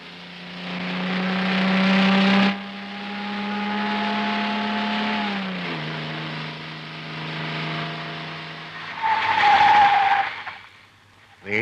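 A car pulls away with tires skidding and squealing, the engine note rising and shifting over several seconds, followed by a louder burst of engine and tire noise near the end; no speech.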